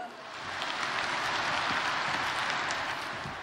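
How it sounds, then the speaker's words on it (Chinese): An audience at a large Buddhist dharma assembly in Paris breaks into sustained applause, a dense, even wash of clapping that swells and holds steady for a few seconds without speech. "让我们掌声欢迎"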